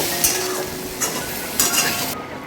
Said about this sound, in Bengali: এখন মা করলা দিয়ে পেঁয়াজ দিয়ে একসঙ্গে ভাজছে।